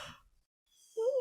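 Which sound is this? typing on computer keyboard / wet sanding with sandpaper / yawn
yawn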